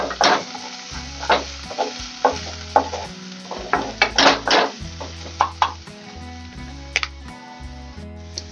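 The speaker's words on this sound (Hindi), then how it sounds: "ये प्याज और मिर्च भून रहे हैं।" Onions and green chillies frying and being stirred in a pan at home, a steady close sizzle broken by repeated scraping stirs and light clinks of a utensil against the pan.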